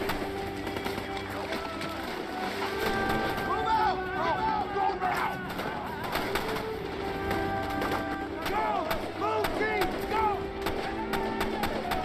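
Automatic gunfire from a magazine dump in a dense jungle firefight in the film Tears of the Sun, sharp rapid bursts over a steady layer of battle noise and voices.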